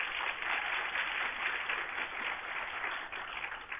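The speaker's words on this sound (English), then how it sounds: "if I could get a quick round of applause for Sophia" A conference audience gives a quick round of applause for a presenter, a continuous even wash of clapping heard at a distance and fairly faint.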